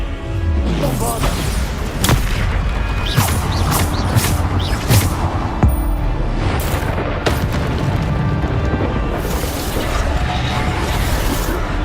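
Bombarda explosion spells go off in a Hogwarts Legacy fight, several heavy booms and blasts cutting through continuous loud combat noise while someone talks over it.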